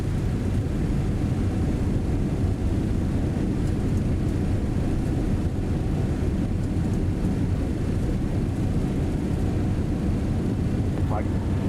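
A VARIG MD-11 on its landing roll in a flight simulator, with a steady, loud, broadband roar of reverse thrust filling the whole stretch and no break in the rumble.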